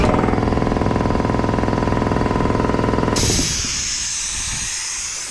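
An air compressor in a workshop runs loud and steady with a rapid pulsing chug, then cuts off about halfway through, leaving a sustained hiss of escaping air.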